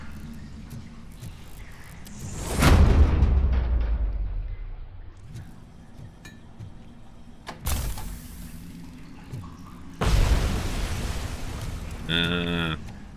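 A grenade going off in the RoboCop Rogue City video game, a loud deep boom with a rumbling decay, followed by further gunfire-like bursts and sharp game effects, while someone talks at times.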